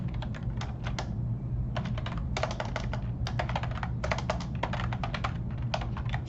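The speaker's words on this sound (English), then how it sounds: "Struggling with the typing here." Steady computer keyboard typing in quick bursts of key clicks with short pauses, close and clear over a low background hum.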